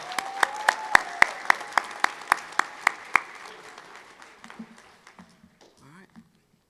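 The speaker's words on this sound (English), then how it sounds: "Round of applause, Jason Seabolt." Applause at a university spring commencement ceremony, with a burst of sharp claps that fades out over several seconds, plus faint voices from the crowd.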